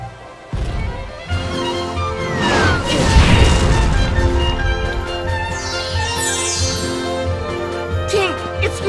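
Cannon fire in a Kingdom Hearts cutscene on PlayStation 4, heavy booms and crashing impacts over several seconds amid dramatic music and effects.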